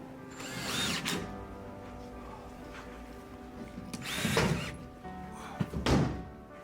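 Power drill driving screws into the back of a traveling museum exhibit about the World War II confinement of Japanese Americans in New Mexico, with several short whirring bursts and a few thunks, fairly close, with faint background noise between them.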